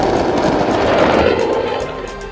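Dense, continuous crackling blasts from the Harda firecracker factory explosions, a loud rolling barrage of bangs and pops that carries on without a break for the whole stretch.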